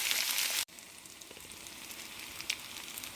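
Curry leaves frying in hot oil for a taro root fry: a loud hissing sizzle, then a brief cut, followed by a steady, softer crackling sizzle that continues close by.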